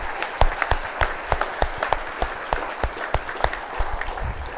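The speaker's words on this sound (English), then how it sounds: "One more round of applause" Applause from a small crowd at a rally for a governor candidate, distinct individual claps in an uneven patter, fairly close and moderate in volume, with faint voices in the room.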